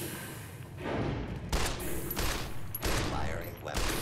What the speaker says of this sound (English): Firing weapons.